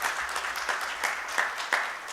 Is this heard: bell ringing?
no